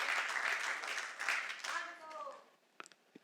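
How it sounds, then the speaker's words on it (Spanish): A church congregation at a discipleship class claps together in a dense, steady round of applause that fades after about two seconds as a voice speaks over it, followed by a few sharp knocks. "dale un aplauso al Señor"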